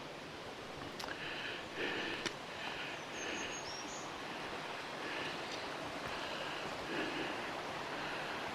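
Creek water rushing at a woodland crossing on the Appalachian Trail, a constant broadband hiss of flowing stream with light wind noise and faint, scattered background sounds.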